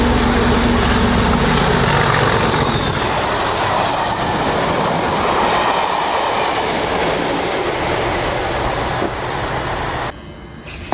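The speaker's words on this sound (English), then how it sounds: "this is the Boat train, home of the Boats" A train passes close by at a station near the Naze, a loud rumble with rhythmic clickety-clack and some wheel squeal. The noise stays steady, then drops off sharply just before the end, with no talking.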